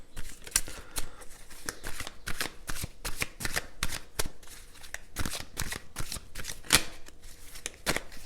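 Tarot cards are shuffled and drawn in a dense run of crisp riffling snaps and slaps that repeat irregularly throughout at close range, with no talking.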